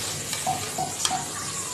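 Palm fritters (taler bora) frying in oil in a pan, a close, continuous sizzle with small crackles and a few light spatula scrapes, heard alone.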